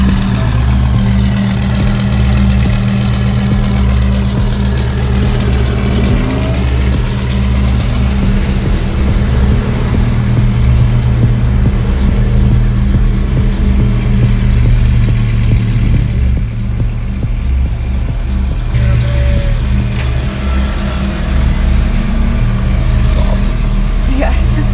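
A loud Lamborghini Huracán idles close by with a deep, throbbing rumble that holds steady for about twenty-five seconds, occasionally swelling slightly, while people talk over it.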